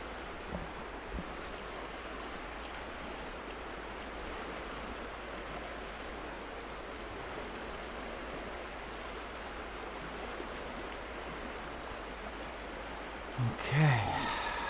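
Water flowing in Rock Creek, Montana, makes a steady, even rush throughout, close and unbroken, with a brief soft knock near the end.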